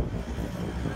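A car passing by on a street near an outdoor property auction, a brief, fairly faint broadband road rumble with no talk.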